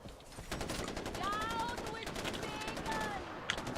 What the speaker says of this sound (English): after they win a fight, they just stand there shooting into the air